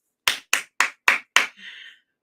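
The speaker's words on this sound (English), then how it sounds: "let me get a hand clap" Five crisp, evenly spaced hand claps ring out close and loud, followed by a short fading tail.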